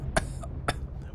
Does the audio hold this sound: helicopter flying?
no